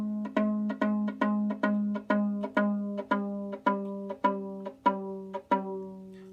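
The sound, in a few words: violin string dropping in pitch as fine tuner is loosened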